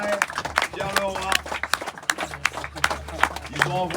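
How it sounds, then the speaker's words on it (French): Cheering crowd claps for a sailing duo arriving in Fort-de-France after the Monnoyeur Duo for a Job race, steady applause mixed with scattered voices and music underneath, fairly close and lively. "Et on peut encore les applaudir très très fort"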